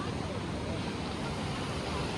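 Water from a burst Nira canal rushes loudly in a steady, dense roar as it floods into a village, heard close and unbroken.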